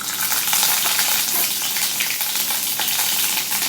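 Ginger paste sizzles in a hot pan with a steady, crackling fry throughout, close and fairly loud, with no voices.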